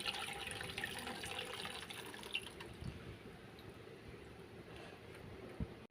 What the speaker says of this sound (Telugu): ఇలా నీళ్ళని వంపేసుకున్న తర్వాత ఈ నీళ్ళు పక్క పెట్టుకున్నాం